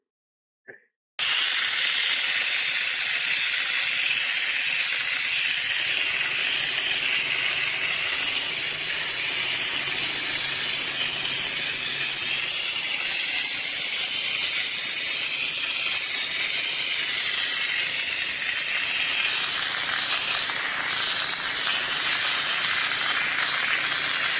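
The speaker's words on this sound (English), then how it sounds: "we're going to try the dry ice to see how much of an improvement we can make on the seat" Dry ice blasting nozzle cleaning a worn Volkswagen Golf GTI seat, a loud continuous steady hiss of rushing air and pellets that starts abruptly and runs without break, close to the microphone.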